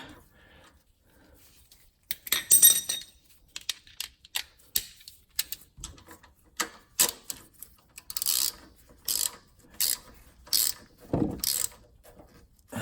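Ratchet wrench loosening the oil drain on a Northern Tool 3100 PSI 2.5 GPM pressure washer, heard as close, sharp clicking bursts in a steady back-and-forth rhythm with short pauses between strokes and no talking.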